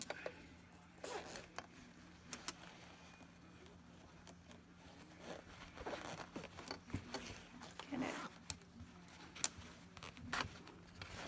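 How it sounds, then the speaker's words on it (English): An invisible zipper being opened during sewing, a quiet series of short zipping rasps close by, with a few soft handling clicks in between. "And then I open the zipper up."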